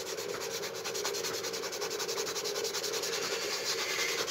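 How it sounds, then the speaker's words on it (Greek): Fine sandpaper rubs back and forth over a wooden fishing lure in quick, even strokes, a close, steady scratchy hiss with no talking. "άλλο γυαλόχαρτο, ένα πιο λεπτό."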